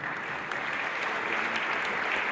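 Audience applause at a mayor's New Year greetings event in Paris's 18th arrondissement, a dense, steady wash of many hands clapping throughout, fairly close, with no talking.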